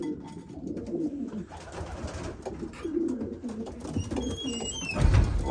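Racing pigeons coo steadily in a loft ahead of breeding season, soft low throaty calls overlapping close by, with a brief higher chirp and a louder burst of fluttering or movement near the end.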